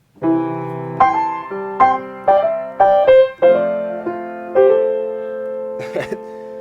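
A solo piano plays a slow melody with slip notes, each phrase bending between neighboring notes, with chords sustaining clearly and no voices.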